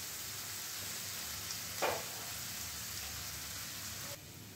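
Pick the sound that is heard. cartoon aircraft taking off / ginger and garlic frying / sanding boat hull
ginger and garlic frying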